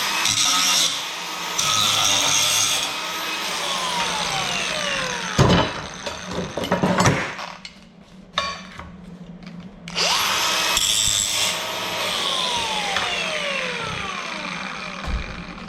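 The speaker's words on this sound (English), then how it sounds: "give this a final grind here" A power grinder works a weld on a worn golf cart, a loud sustained whine with rising and falling pitch that cuts out around the middle, followed by metallic knocks, then spins up again; no talk.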